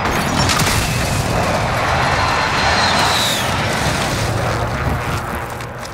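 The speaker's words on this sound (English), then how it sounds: "Be advised, friendly precision airstrike inbound." A precision airstrike in the shooter Call of Duty Warzone, with a dense, rumbling roar of explosions and a faint jet whoosh sustained loudly throughout, then easing near the end.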